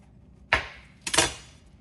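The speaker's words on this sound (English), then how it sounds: "Now we're gonna do the same with this bell pepper. We're gonna try anyway to cut it like the same size of the carrots." Two sharp knife strokes through a bell pepper onto a cutting board, each a crisp thunk with a brief crunchy tail, the second slightly doubled, close and clear with no talk.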